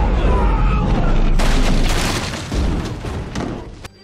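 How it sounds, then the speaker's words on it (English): A delayed bomb detonation in the TV show Agent Carter: a deep boom that erupts suddenly, followed by a loud, crackling, rumbling blast with scattered debris thuds that slowly fade. "The delayed detonation."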